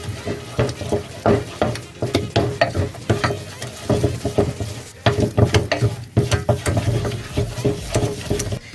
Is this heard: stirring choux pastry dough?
yes